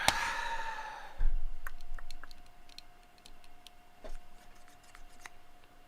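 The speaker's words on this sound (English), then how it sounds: "Let's get the cool scissors." Scissors snip through small plastic parts for a Corne Classic (crkbd) split keyboard build, a handful of sharp clicks and cuts spaced out, fairly close and light, with a faint steady hum underneath.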